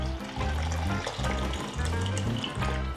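Water is poured into a pot of South Indian rasam with garlic, curry leaves, salt and tamarind, making a continuous close gushing and splashing that is fairly loud and steady throughout, with no voices.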